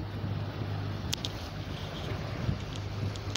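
Sailboat running under mainsail with a preventer and the motor ticking over, a steady low engine drone beneath gusting wind noise and rushing water, with a few faint high clicks.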